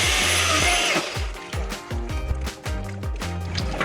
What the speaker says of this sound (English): can you chainsaw this guy?